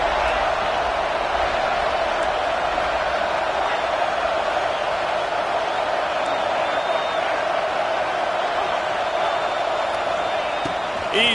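A large Ohio State Buckeyes football stadium crowd roars on third down as a dense, unbroken wall of noise that holds at a steady level for about eleven seconds.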